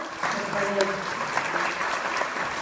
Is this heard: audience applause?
yes